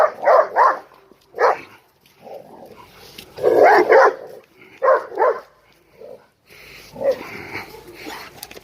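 A dog barks loudly and close by in repeated bursts of two or three barks, with brief yips and whimpers between them, and a person talks intermittently.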